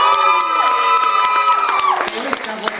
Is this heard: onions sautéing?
no